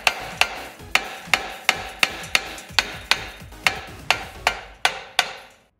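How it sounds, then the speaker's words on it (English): Steady series of about fourteen sharp taps from a rubber hammer during rear brake pad replacement on a Dodge Journey, each a dull knock with a quick decay, evenly spaced and close up, with no talking. "So we'll get actually the rubber hammer"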